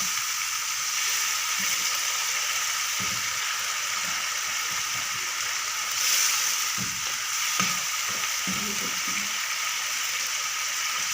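Tomatoes and masala simmering in a pan after water is added, a steady soft sizzle and bubbling with occasional stirring scrapes, quiet and close.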